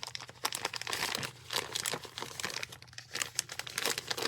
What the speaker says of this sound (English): Comes in a little plastic bag with a drawstring.